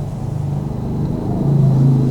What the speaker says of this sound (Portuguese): Moto passando aqui, gente, desculpa o barulho.